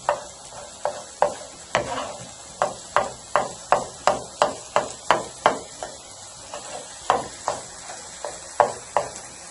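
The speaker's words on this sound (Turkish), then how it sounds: "domateslerimizi doğruyoruz." Steady knife chopping of tomatoes on a cutting board, about two dozen crisp close thuds in a fairly even rhythm, with no voices.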